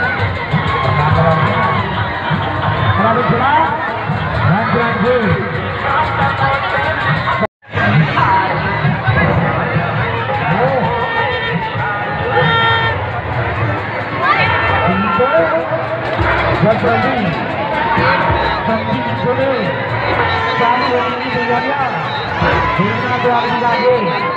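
Dense crowd noise at the Sharad Utsav fair in Barkot, a continuous loud hubbub of many voices, shouting children and cheering, with nearby people talking and a brief cut partway through.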